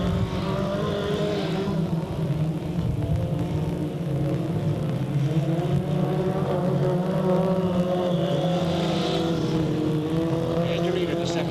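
Race cars circling the Delta Speedway oval in 1998 make a continuous droning engine roar that rises and falls as they pass, with a race announcer talking over the noise throughout.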